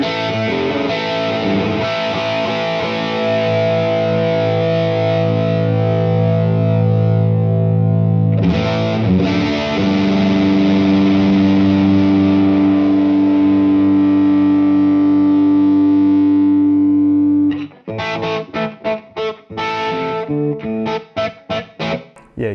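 An electric guitar played through a PRS boutique pedal gives a bitey, distorted PAF-style tone, with long ringing chords first and then a run of choppy, palm-muted strums, loud and without voices.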